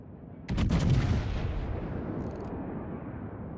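A warship's main guns fire in a naval battle game, one loud booming salvo with a crackling onset that rolls into a long fading rumble.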